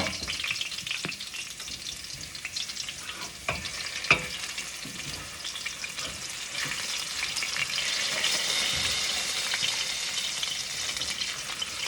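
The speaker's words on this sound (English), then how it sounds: "I'm gonna open the lid and I'm gonna stir it." Vegetables for a veggie pasta sizzle and fry steadily in a covered pan, with occasional scrapes and clinks of stirring heard up close and no talking.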